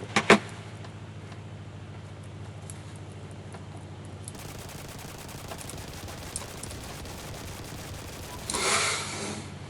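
Rapid machine-gun bursts from a warplane in the aerial combat game Clear Skies, armed with one .50 cal and two 7.62 machine guns, crackling over steady engine drone with a louder burst near the start and a brighter rush near the end.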